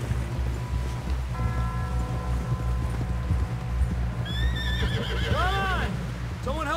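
A horse whinnies with a shrill, wavering neigh amid steady hoofbeats and a low rumbling background, with voices talking underneath, in the video game Red Dead Redemption 2.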